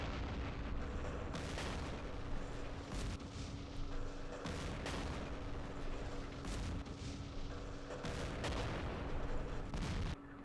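Opportunity fire in the wargame Campaign Series West Front, at the Aachen West Wall, sounds as repeated heavy artillery-like booms every second or two over a constant rumbling battle drone, with no talk.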